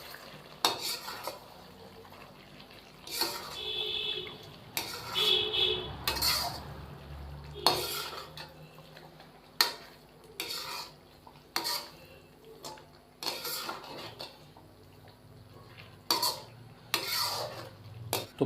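A spoon stirs Lahori street-style chicken karahi with green chillies in a pot, giving intermittent scraping and clinking strokes against the metal over a soft background sizzle.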